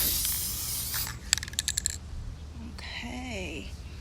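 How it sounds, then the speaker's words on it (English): Spray paint hissing from a can as it lightly mists real roses, a steady close spray for the first stretch, then a few quick rattling clicks and a softer sputter of mechanism noise. "I'm just gonna lightly spray them so you still see some of the purple."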